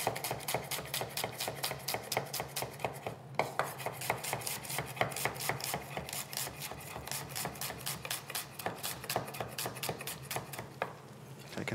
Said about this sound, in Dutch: Een beetje snijden.